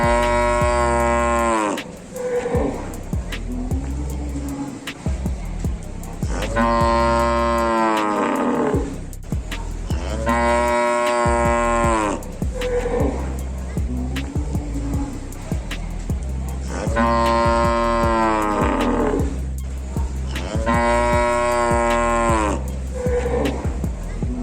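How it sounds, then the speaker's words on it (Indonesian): A large red sacrificial cow weighing about 1.5 tons, led along by two people, lets out several loud, drawn-out moos in repeated bursts, with faint background noise between calls. "Sapi berwarna merah itu tampak digiring oleh dua orang."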